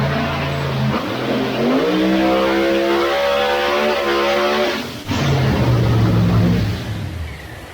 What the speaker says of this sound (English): That's one of the louder cars that we absolutely have dynoed in a while.